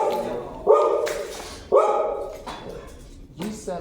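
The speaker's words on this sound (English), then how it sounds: "You don't have to bark at every single person that walks by" A dog barks in a few sharp, separate yaps close by, with whimpering tones between them and no other sounds.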